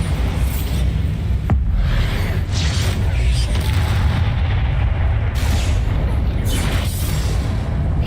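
Confringo and Bombarda spell blasts in the video game Hogwarts Legacy: dense, continuous booming explosions and crackling impacts follow one another for several seconds, loud and close.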